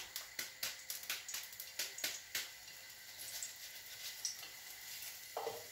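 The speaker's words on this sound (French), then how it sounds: "Qu'ensuite on émince l'oignon et on va le faire revenir" Sliced onion frying in olive oil in a pan. A few quick clacks of stirring open the sound, then a soft, steady sizzling hiss settles in, quiet and close, with no voices.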